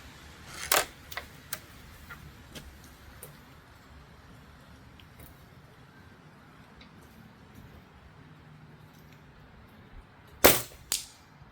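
A Daisy 1101 air pistol fires at a target: two short, sharp snapping shots several seconds apart, close and fairly loud, with faint handling clicks between them and no talk.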